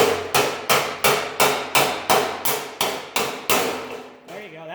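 A series of about ten sharp metallic cracks at a steady rhythm as spot welds pop apart between two metal pieces, each snapping loud then decaying, followed by a brief squeal.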